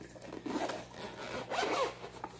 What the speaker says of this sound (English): You unzip it all the way around, and you open it up.